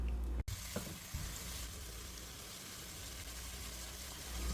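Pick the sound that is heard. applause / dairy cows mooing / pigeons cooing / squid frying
squid frying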